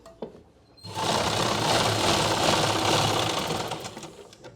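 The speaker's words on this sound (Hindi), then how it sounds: "खींच के सिलाई लगाएंगे लेकिन चलती मशीन पे।" A sewing machine stitches a seam on straight pants, starting after a brief pause and running as a loud, steady, rapid whir that eases slightly toward the end.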